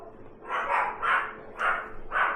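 Four harsh barks in a steady rhythm, each a bit rough and mid-pitched, heard from a short distance over a low background hum.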